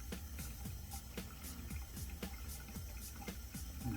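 Tap water runs steadily while wet shaving, a continuous close splashing flow with small repeated knocks and clatters over it, no voices.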